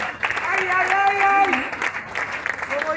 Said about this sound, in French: Est-ce qu'on peut encore une fois de plus applaudir pour cette dame?